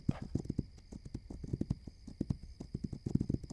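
Rhythmic hoof clip-clops from a trotting horse in the video game This Land is my Land, steady and fairly close, with a faint high electronic tone running underneath.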